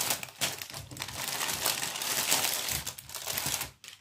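A cross stitch kit package is unwrapped up close, with continuous plastic crinkling and crumpling in quick, uneven handling noises.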